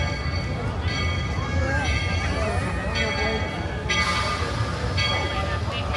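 Rumbling rail noise with squealing, ringing tones, like a train rolling along the tracks nearby, with voices in the background, at Walt Disney World near Tiana's Bayou Adventure.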